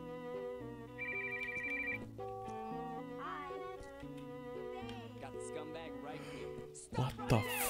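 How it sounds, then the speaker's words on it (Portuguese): A melodic phone ringtone playing in a video game, looping tones over game music, with a voice and other game sounds rising near the end. "estão te ligando?"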